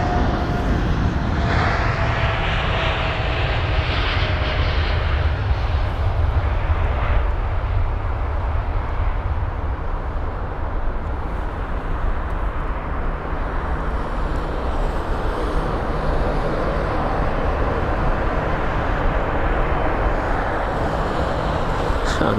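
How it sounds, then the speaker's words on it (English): An Air Canada Boeing 787-9 Dreamliner at London Heathrow roars down the runway on its takeoff roll, a loud sustained broadband engine rumble holding steady throughout. "on the move now is the Air Canada 7879 Dreamliner"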